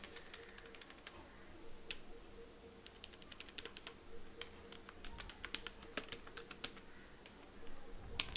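Computer keyboard typed in short irregular bursts of crisp, close key clicks while an HTML comment is written; quiet, with no voice.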